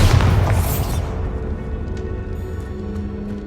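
Hogwarts Legacy's Bombarda spell lands as a heavy explosive boom right at the start, then fades into a rumbling, crackling tail.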